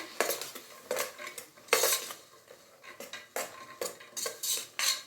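A spoon clinks and scrapes around a pot as sambar powder is stirred into broad bean sambar, a series of sharp bright metallic knocks in an irregular rhythm, close and fairly loud, with no talking.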